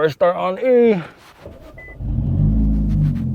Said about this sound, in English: Let's see, first start on E.